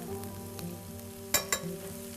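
Food frying steadily in an outdoor cooking pan with a quiet, even sizzle, as spices and salt go in with two sharp clinks near the middle.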